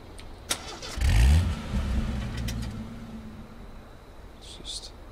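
A vehicle engine in the H1Z1 battle royale game cranks and catches with a short low burst, then settles into a steady idle that slowly fades, a faint click coming first.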